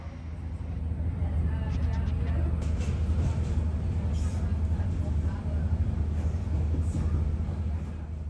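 An Irish Rail class 2600 diesel train in two-carriage form runs on the Cork to Cobh line. Its steady rumble and rolling noise fill the cabin throughout, with speech over the top.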